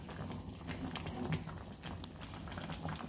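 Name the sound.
mung beans boiling in a pot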